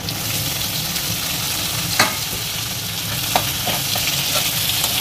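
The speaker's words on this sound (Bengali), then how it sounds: "গাজরটা একটু তেলে ফ্রাই হয়ে গেলে আমি এতে ক্যাপসিকাম কুচিগুলো দিয়ে দিলাম" Carrot and capsicum stir-frying in hot oil, a steady close sizzle with a few sharp clinks of a spatula against the pan.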